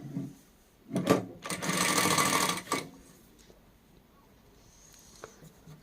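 A DAISEN DS Z1 industrial sewing machine stitches jersey fabric in two short whirring runs, the second longer and steady for over a second, close and clear with quiet room tone afterward.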